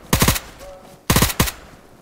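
Gunfire in DayZ: two sharp, loud bursts of three rapid shots each, close by, followed by a single further shot, with near silence between.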